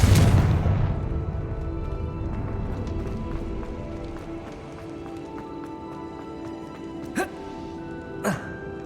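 A Confringo fire spell explodes in the Hogwarts Legacy video game, a loud, close blast that opens the clip and then fades into a long rumbling tail, with two sharp clicks afterward.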